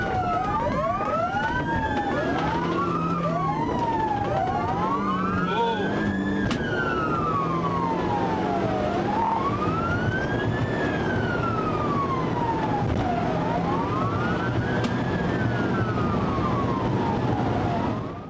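Police car sirens wail loudly and continuously during a high-speed chase, several overlapping rising and falling tones sweeping up and down over a constant roar of road and engine noise.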